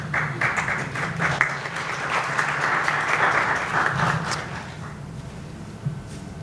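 A crowd at a public assembly at the Lahore Press Club claps in sustained applause that holds for several seconds, then fades out near the end.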